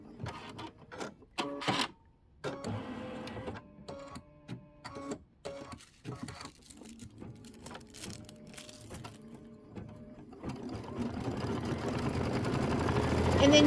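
Embroidery machine stitching the placement outline for two small Mylar stars on a mini quilt, a close, busy mechanical chatter of stops and starts with a hum that builds steadily toward the end.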